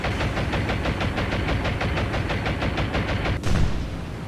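Rapid, evenly spaced bursts of aircraft gunfire strafe battleships in a naval war game, a loud rhythmic rattle of roughly four to five rounds per second that ends with a heavier thud.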